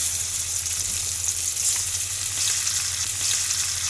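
Flat beans hit hot oil seasoned with black cumin for a bean mash, giving a steady, close, even sizzle and frying hiss that holds throughout with no talking.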